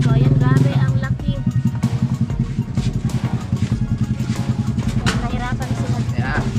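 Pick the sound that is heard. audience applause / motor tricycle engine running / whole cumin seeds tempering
motor tricycle engine running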